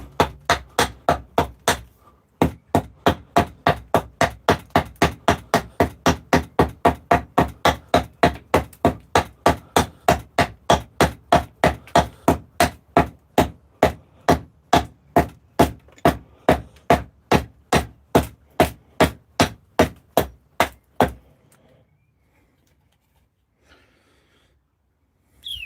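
An axe hand-carves a wooden bowl in a long run of evenly spaced, sharp chopping strikes, close and loud, before the chopping stops and near silence follows.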